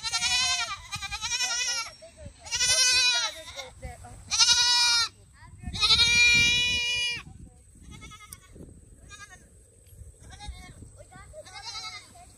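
A goat on a small backyard farm bleats in several loud, wavering calls, spaced across the opening seconds, close to the recorder, then fainter cries later, with people talking nearby between the bleats.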